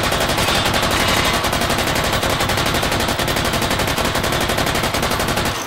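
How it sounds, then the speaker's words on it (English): A Bruin MK9 machine gun in the VR game H3VR rips off 5.56x45 rounds in one unbroken, very fast automatic burst, loud and close, with no talking. "Not the most widely used gun in the game, but still a fun gun to fire."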